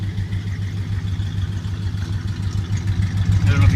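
A 1966 Cadillac Fleetwood's big old engine idling, a low steady exhaust rumble heard from close by, fairly quiet and smooth, swelling slightly toward the end.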